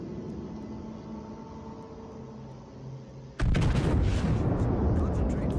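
Warship guns fire in World of Warships, a sudden heavy boom after a low engine hum, followed by a sustained loud rumbling blast with crackling debris.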